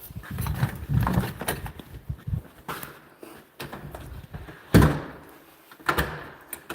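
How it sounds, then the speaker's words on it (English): A back door is pushed shut, with several sharp knocks and one louder thud as it closes and locks, followed by smaller clicks, and no one talking. "Alright, back door's locked."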